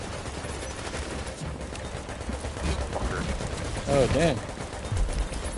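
A turret in The Division fires rapid bursts of automatic gunfire amid game sounds, with voices talking over the shooting.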